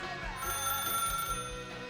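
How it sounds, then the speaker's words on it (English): A telephone bell rings with a continuous metallic trill, moderately faint and steady throughout, with no speech over it. "And the phone rang"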